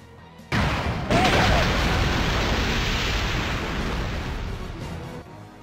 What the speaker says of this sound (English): with comical punch noises, along with smashes and explosions